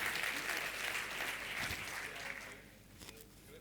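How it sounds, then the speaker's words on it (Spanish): Loud applause from a large audience at a summit on frontier research and industry, a dense steady wash of clapping that thins and fades toward the end. "Un aplauso muy fuerte, por favor"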